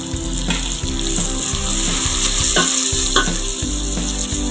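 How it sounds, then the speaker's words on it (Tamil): Beef thokku sautéing in a pan with curry leaves and coriander, a loud continuous sizzle and fry with regular scraping stirs of a spoon against the pan, close and steady throughout. "மூணு நிமிஷம் வதக்கட்டும்."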